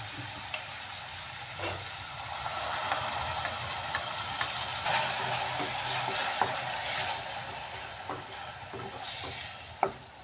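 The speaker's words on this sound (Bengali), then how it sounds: "এবার আমি এর মধ্যে দিয়ে দিচ্ছি মিক্সিতে পেস্ট করে রাখা টমেটো ধনিয়া পাতা আদার পেস্টটা" Tomato, coriander leaf and ginger paste sizzles with browned onions in a pan for egg tikka masala, a steady close frying hiss broken by occasional scrapes of a stirring spoon, with no voices.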